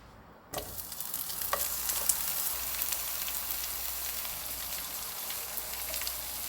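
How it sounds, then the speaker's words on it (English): Vegetables suddenly hit hot oil and sizzle loudly, a steady crackling pan fry with occasional stirring clicks, close up and without speech. "I'm just gonna be pan frying some vegetables"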